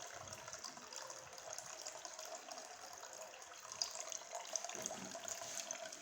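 Water pumped by an Arduino-controlled pump fills a reservoir with a steady, faint, continuous gushing rush that runs unbroken throughout, with a few small splashy peaks near the end.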